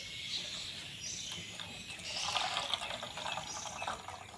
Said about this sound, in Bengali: তো এই জলটাই আমি এই বয়ামের ভিতরে ঢেলে দেবো অর্ধেকটা